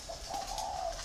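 A single decoy dove, a thổ-type bird used as a lure, gives a sustained, steady coo over a faint hiss of background noise.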